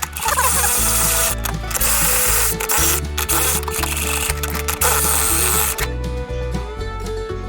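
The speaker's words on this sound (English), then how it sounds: "we're just going to tighten up these bolts until they're just a little loose" A ratchet wrench tightens bolts on rooftop tent tie-down points during a tent install on a 2006 Lexus LX470, giving loud, close, rapid clicking strokes in steady bursts with brief pauses between them.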